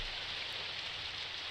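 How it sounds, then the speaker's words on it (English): Steady rain falls, dense and even, in a visual novel game scene set outside a dormitory, forming a continuous hiss with no voices. "The rain has begun to fall harder."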